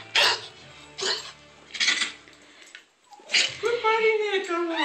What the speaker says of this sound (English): If you can hear Mitchell, we're taking him to the vet right now for that cough that he can't kick.